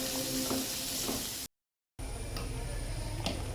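Onions fry in ghee in a pan with a continuous close sizzle, broken by a brief total silence midway before the sizzling resumes.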